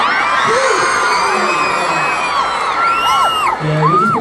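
A large arena crowd at a world tour concert cheers continuously with shrill whoops and screams rising and falling over a steady roar, loud and close, with no one talking.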